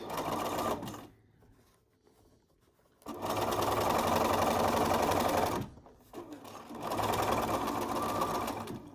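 A sewing machine runs in two long bursts of fast, even stitching along a 1/4 inch seam of a fabric face mask, loud and close, with a short quiet pause between runs.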